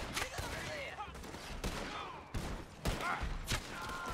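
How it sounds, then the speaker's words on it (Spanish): Gunfire in Red Dead Redemption 2 Online, with a repeating carbine nearby: several sharp shots scattered through the clip over busy game sound, with a few overlapping cracks. "Te están disparando a ti, a mí no me han visto."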